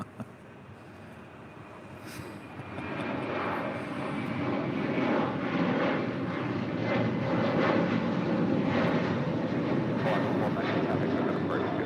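An airliner takes off from runway 25 right at LAX, heard as a broad engine roar that builds and then holds steady, with a voice talking over it.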